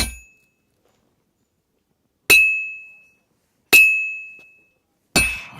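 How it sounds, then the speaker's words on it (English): Hammer strikes on a metal bell in the game Kingdom Come Deliverance II, three bright ringing clangs spaced over a second apart, each sustaining a clear high tone that slowly decays, with a fourth rougher hit at the end. "I have to hammer it more evenly."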